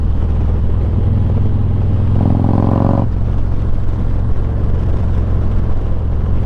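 Motorcycle engine rumbling steadily through a 30 mph curve, with a brief higher-pitched rise as the rider gears down, the drone continuing loud and close throughout.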